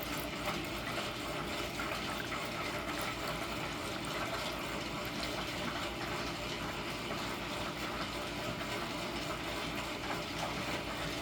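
Water is poured into a rock tumbler barrel filled with unakite rocks, making a continuous, faint, even gushing fill with no break and no one speaking.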